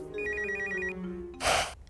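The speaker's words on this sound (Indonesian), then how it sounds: "Tapi masih ada telepon nih. Yaudah kita angkat dulu teleponnya ya." A telephone rings with a rapid electronic trill lasting about a second, clear and close, followed by a short burst of noise.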